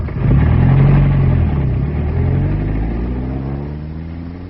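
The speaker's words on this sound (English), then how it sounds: "The car's over there." A car engine starts and pulls away, a loud mid-pitched roar that rises, holds as the vehicle drives off, then slowly fades with distance.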